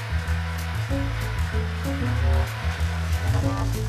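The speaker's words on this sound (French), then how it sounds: "On peut utiliser le fouet électrique? Oui, 4 minutes à vitesse moyenne" An electric whisk beats egg yolks and sugar at medium speed in a cartoon kitchen, a steady loud motor whir with a shifting, buzzing pitch running throughout.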